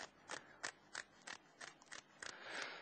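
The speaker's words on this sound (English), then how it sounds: "I find scissors the best thing to use on these." Sharp, crisp snips of kitchen scissors cutting through a fresh fish during filleting, about eight quick separate cuts at a close, fairly even pace with no talk.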